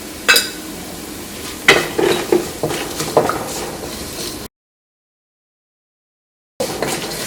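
Ginger and turmeric powder are stirred in a dry pan with a metal utensil, giving irregular scraping clinks and taps over a faint sizzle, then a gap of silence before the scraping resumes.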